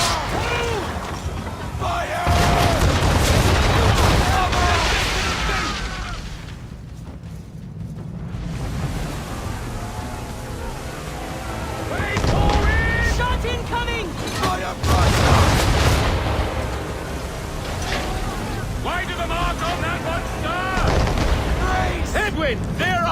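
Musket volleys and booming artillery-like blasts on a battlefield in the game Assassin's Creed 3, loud reports in waves with shouted commands and voices between the bursts.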